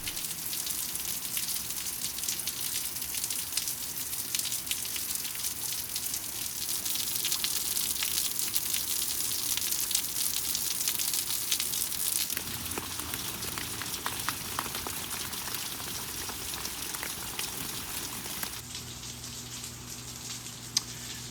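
Rain pours outside a rural property, a continuous broadband wash of drops and runoff that holds steady for about twenty seconds, briefly shifting in texture near the end, with no one speaking.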